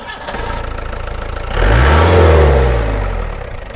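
A Tata Vista's engine turns over and catches, then revs up loudly into a deep rising roar before easing back down, close by.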